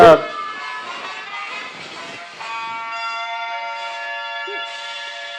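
A phone ringtone plays a tune as a run of bright, sustained chiming notes, fairly loud and close, with no one talking over it.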